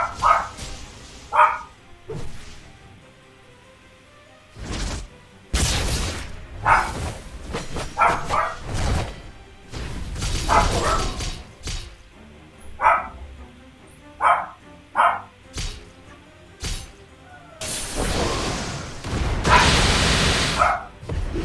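A dog barks repeatedly in irregular bursts, some loud yips and some softer, with quiet pauses between volleys.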